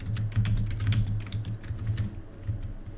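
Steady, fast typing on a computer keyboard while writing Python code for a quick sort tutorial, close and clear, with continuous key clicks in irregular bursts and no talking.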